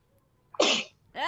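A single close, sharp sneeze bursts out during an online voice lesson, loud and brief, with a voice starting up right after it.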